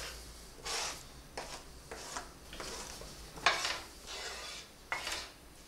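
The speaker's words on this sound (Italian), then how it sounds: "La fiamma la mettiamo bassa e andiamo con la cipolla." Onion being stirred in a pan over a low flame, with soft scraping strokes of a utensil against the metal recurring every second or so over a quiet, steady background.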